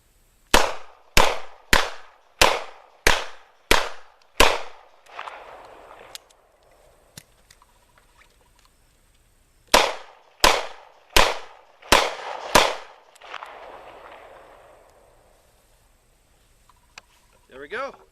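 Two revolvers fire in a New York reload demonstration: a rapid string of seven sharp, loud gunshots, a pause, then a second string of five, each with a brief echoing tail outdoors.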